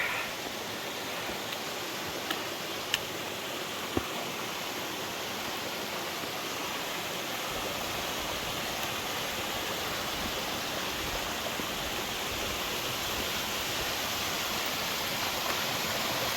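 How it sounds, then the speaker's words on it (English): A waterfall beside a mountain trail on Mt. Moosilauke pours in a steady, broadband rush, close and constant, with a couple of faint clicks but no talking. "right alongside the waterfall here."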